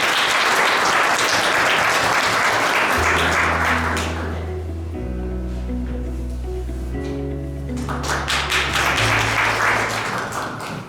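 Large audience at a Korean memorial ceremony for the late chairman Park Tae-joon applauding loudly and steadily, the dense clapping easing off midway beneath sustained organ-like music tones, then rising again strongly toward the end.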